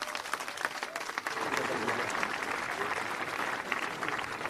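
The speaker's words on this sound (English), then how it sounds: "Just give him a big round of applause." A crowd at a municipal band concert in Peoria applauds, a dense sustained wash of many hands clapping at steady loudness throughout, with some crowd noise mixed in.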